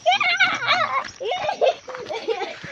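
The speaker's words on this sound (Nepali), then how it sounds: "हे हाम्रो यस्तो कुकुर रहेछ।" A dog makes short whimpering and yelping sounds, close and fairly loud, in quick irregular bursts over roughly three seconds.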